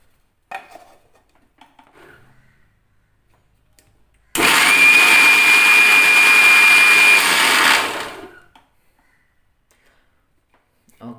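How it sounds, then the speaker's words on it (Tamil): A mixer grinder jar blends tomatoes into a smooth paste for fish gravy. After a few faint clinks, the motor roars loud and steady for about three and a half seconds, then winds down to quiet. "இதெல்லாம் போட்டுட்டு ஸ்மூத் பேஸ்ட் அரைக்க போகிறோம் நம்ம இப்போது"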